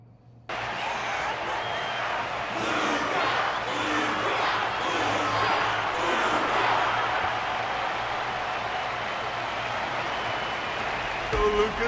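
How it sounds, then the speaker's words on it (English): Sustained crowd applause and cheering fills an arena in a wrestling-style video game, a steady broad wash of clapping holding for about eleven seconds after an abrupt start, with a low steady hum beneath. "Their constant applause is a salute to this resilient Belabogian fighter."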